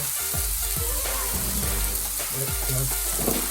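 Onions browning over low heat with salt and pepper in a pan for sag paneer, a steady soft sizzle running throughout beneath prominent melodic music.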